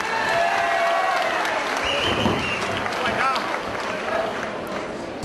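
An audience claps steadily at a King of the Cage fight event, a dense, continuous burst of applause from a sizeable crowd, with cheering and a voice over the clapping.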